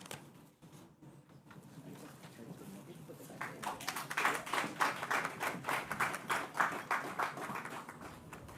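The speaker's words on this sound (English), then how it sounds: "can I get a round of applause for the Maples Group" Audience applause at an official opening and ribbon cutting ceremony, starting as sparse scattered claps and swelling into a steady, moderately distant round of clapping that carries on to the end.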